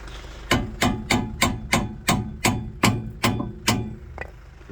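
Ten evenly spaced metallic taps as a brake caliper part is knocked into place on the rear disc of a Hyundai i with electric handbrake, each strike sharp and close with a short ring, the last one softer.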